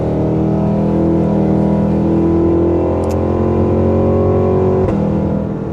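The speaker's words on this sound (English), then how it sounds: "this Escalade V does have a supercharged V8 with 682 horsepower" A Cadillac Escalade V with a 682-horsepower supercharged V8, loaded with passengers and luggage on a road trip, accelerates with a loud, sustained engine drone heard from inside the cabin.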